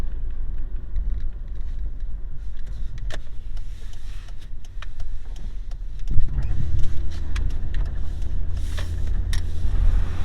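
A car that sat unused for years is cranked with the key; about midway the engine catches and settles into a steady, close, rumbling idle, with no talking.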